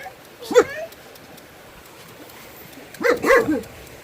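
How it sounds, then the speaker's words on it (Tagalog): A dog gives a single sharp bark, pauses, then lets out a short burst of several barks and yips at moderate distance. "Aso ni Roland."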